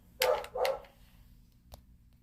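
A pet dog at home barks twice in quick succession, close and fairly loud, followed by a single faint short yip, with no talking.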